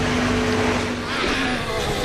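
A high-pitched Formula 1 car engine screams steadily at close range, droning at full throttle throughout the short moment, during practice at the Mexico City circuit.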